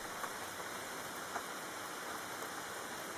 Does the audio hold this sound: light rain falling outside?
yes